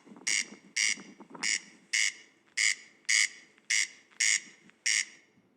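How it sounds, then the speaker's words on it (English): A male corncrake calls in a steady series of nine harsh, rasping double notes, evenly spaced about half a second apart, clear and fairly close against a quiet background. "that is the sound of a calling male corncrake"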